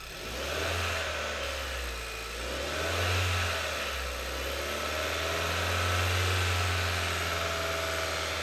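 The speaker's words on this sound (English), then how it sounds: "Rev it, Lionel!" The engine of a 2013 Kia Soul 1.6 GDi running rich revs up and down several times, rising and falling in pitch between short stretches of steady idle, heard fairly close.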